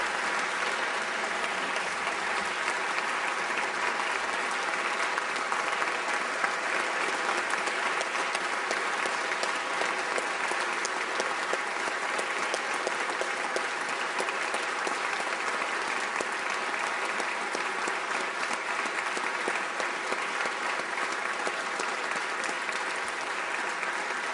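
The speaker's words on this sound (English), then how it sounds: "They deserve a round of applause" A legislative chamber audience at a governor's State of the State address applauds the Teacher of the Year, a steady, even wash of many hands clapping that holds at one level throughout without pause.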